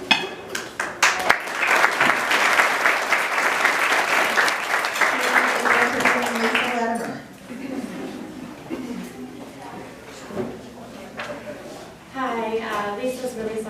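Applause from an audience at an award ceremony for a Woman of the Year honor, steady dense clapping for about seven seconds before fading, after which someone speaks at a microphone.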